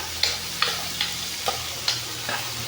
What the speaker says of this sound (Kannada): ನಾನಿವಾಗ ಈರುಳ್ಳಿ ಹಾಕೊತಾ ಇದ್ದೀನಿ ಚೆನ್ನಾಗಿ ಫ್ರೈ ಮಾಡ್ಕೊಳ್ಳೋಣ